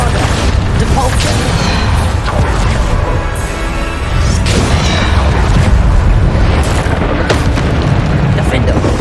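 Bombarda spell explosions from Hogwarts Legacy on PC going off in a final boss fight, loud repeated booming blasts layered over dense battle noise and game speech.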